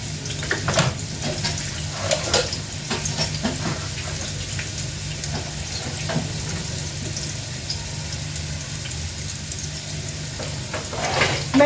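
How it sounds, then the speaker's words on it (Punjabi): Onions being rinsed under a running kitchen tap, a steady broadband water rush at close range with occasional splashes and knocks against the sink, no talk. "ਇਹਨਾਂ ਪਿਆਜ਼ਾਂ ਨੂੰ ਹੁਣ ਮੈਂ ਧੋ ਲਾਂਗੀ"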